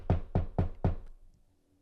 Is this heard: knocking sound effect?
yes